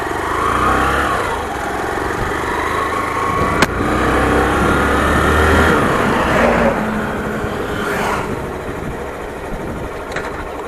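A Hero Glamour BS6 motorcycle engine revs steadily and loudly, climbing in pitch through several gear changes with brief dips between them, running alone without speech.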